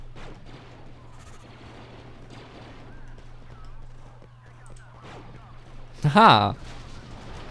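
A single sharp, loud sniper rifle shot in a Star Wars Battlefront 2 mod rings out near the end, following quiet background noise and a brief spoken interjection.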